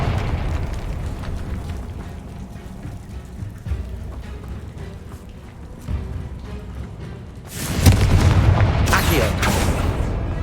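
Confringo fire spell blasts from Hogwarts Legacy on PS5: booming explosive bursts over a steady rumbling game soundscape, with a louder burst of blasts near the end.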